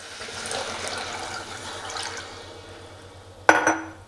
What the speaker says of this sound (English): You add 1 liter of water